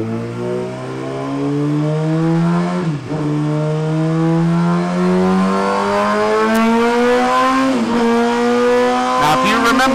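A 2017 Suzuki GSX-R1000 running a lean flash-ECU map screams on a dyno, its engine pitch climbing in long rising rev sweeps with brief dips between pulls, loud and close.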